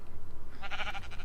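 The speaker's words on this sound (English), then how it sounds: "that's a baby sheep" A baby sheep in the video game Minecraft gives one short, wavering bleat partway through, over a low steady background hum.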